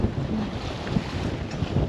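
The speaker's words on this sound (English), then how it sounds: "The wind is pushing us to the west of Martinique." Steady wind rushes and buffets the microphone aboard a sailboat at sea off Martinique, with waves washing against the hull in a continuous, fairly loud roar and no voices.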